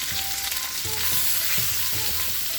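Baby bok choy stir-frying in olive oil with garlic and ginger, a steady loud sizzle broken by several rhythmic scraping stirs of the pan, with no talking.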